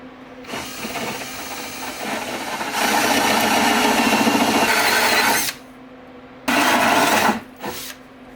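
A power tool whirs while trimming plywood for a car trunk setup in a Ford shoebox build, loud near buzzing in long bursts that stop and restart, with short bursts near the end.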